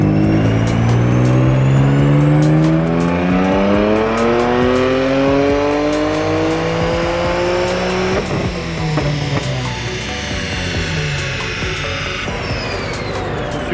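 Big-turbo BMW F80 M3 engine on a dyno, revving loudly and continuously as it climbs through the gears in a sustained pull, with pitch rising repeatedly and no talking.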